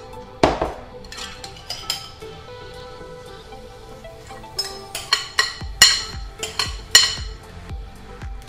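Vinaigrette is mixed in a salad bowl, with a series of sharp clinks and taps from a utensil striking the bowl, irregular and close, with no talking.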